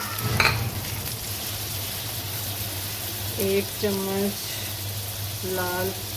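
A steady sizzle of onions frying in a pan, added after garlic, runs throughout, with a voice talking over it in short bursts.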